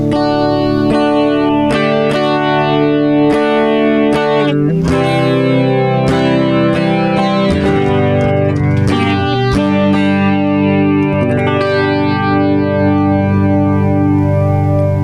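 Electric guitar with DiMarzio Titan pickups rings out chords and single notes through a TC Electronic 3rd Dimension chorus pedal, shimmering and wavering, loud and sustained, no voices.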